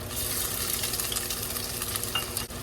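Ginger and onions sauté in hot oil in a pan for pork ribs sinigang, giving a steady, close sizzle with light stirring scrapes throughout and no talking.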